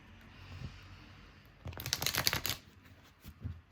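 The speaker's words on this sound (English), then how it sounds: "Okay, a couple more shuffles so it feels right." Tarot cards are shuffled, giving a quick run of crisp riffling flutters that swell midway, with softer handling taps before and after in a quiet room.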